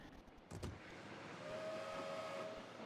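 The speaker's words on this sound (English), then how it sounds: "I can hear the train." A distant steam train whistle in The Sims 3 video game, a faint thin sustained tone over a soft hiss and room ambience.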